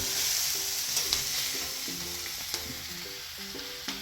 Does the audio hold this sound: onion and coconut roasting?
yes